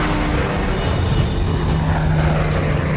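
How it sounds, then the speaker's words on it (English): A lone P-51 Mustang propeller fighter plane flies overhead with a loud, steady engine drone that holds an even level throughout, no voices present. "A lone P-51 Mustang soars above a large"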